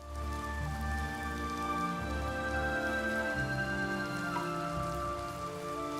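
Rain falls steadily in the video game Oblivion Remastered, a soft continuous patter under layered sustained music tones.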